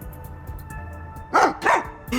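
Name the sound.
dog barking in the video game Rain Code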